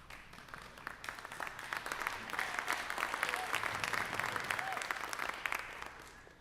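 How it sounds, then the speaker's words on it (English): An audience claps in a steady, dense wash of applause. It swells slightly toward the middle, then fades at the end. "Let's give a big round of applause for Danny Piper."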